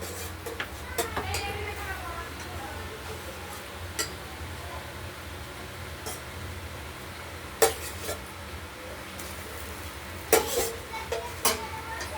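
A utensil stirs fried katla fish in a pan with scattered clinks against the metal and a soft sizzle underneath. The sound is fairly quiet and intermittent, with a few sharper knocks.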